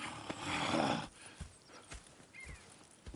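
Video game horses clip-clop and a horse whinnies loudly near the start, followed by scattered hoof thuds and faint movement sounds.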